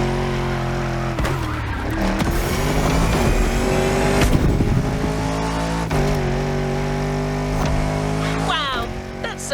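A Lamborghini drives hard in The Crew Motorfest, with a loud, steady engine roar that rises and falls through gear changes and a few tire screeches, and a voice speaks over it.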